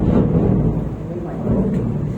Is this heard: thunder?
yes